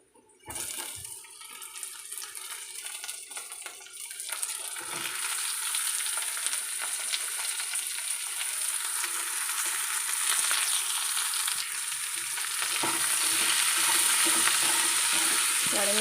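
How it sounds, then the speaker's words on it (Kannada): Ivy gourd added to a pan of fried tomato and onion, sizzling loudly and steadily in oil after an initial burst, with the hiss swelling and holding close for a long stretch. "10ರಿಂದ 15 ನಿಮಿಷ ಇದೇ ರೀತಿ ಫ್ರೈ ಮಾಡ್ಕೊಳ್ತೇನೆ."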